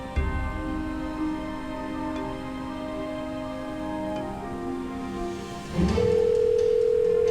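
Telephone call tone, a steady electronic tone held over faint background hum, which becomes louder and more insistent in the final seconds.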